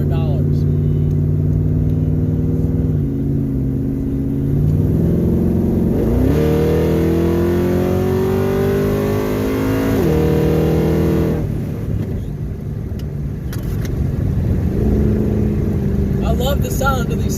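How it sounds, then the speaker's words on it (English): A car with side pipe exhausts revs and accelerates repeatedly, its loud rising and falling engine roar close by, with someone talking over parts of it. "The sound of these side pipes."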